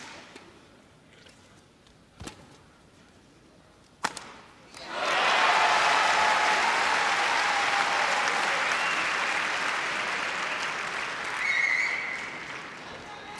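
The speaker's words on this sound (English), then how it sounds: "the crowd, I think, after being mesmerized by the clearing rallies, are now starting to come to life" Crowd applause breaks out at the 1987 All England badminton men's singles final, following a few sharp shuttle strikes, then sustained loud clapping fills the arena for several seconds before easing slightly.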